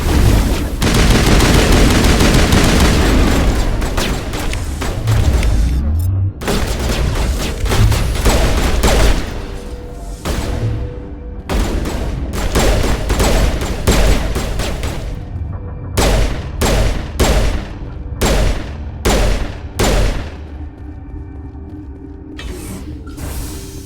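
Gunfire in Mass Effect Legendary Edition: a sustained loud barrage of rapid automatic shots gives way to sharp separate bursts and single cracks with short gaps, alongside mechanical clanks and whirring weapon noise.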